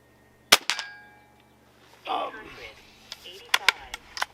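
Cometa Fenix 400 airgun fired on an outdoor range at an airgun expo: a sharp near shot cracks out, followed by a brief rustle and a few scattered clicks and taps, with low background noise throughout.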